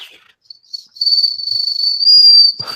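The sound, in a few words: car exhaust whistle tip sounding like a turbo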